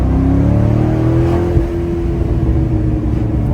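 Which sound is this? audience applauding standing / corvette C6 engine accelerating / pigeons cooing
corvette C6 engine accelerating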